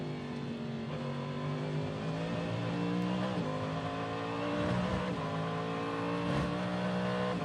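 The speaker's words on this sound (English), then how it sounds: "wonderful sound in the background of Simon Pagenaud's Cadillac V8 as it heads then into the International Horseshoe" A Cadillac V8 race car roars through the International Horseshoe at the Rolex 24 at Daytona, its engine note rising and dropping through repeated gear changes, loud and continuous with a faint background wash, no talk.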